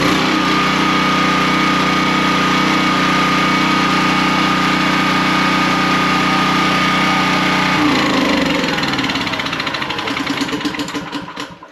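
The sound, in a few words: small gasoline engine starting and idling after repair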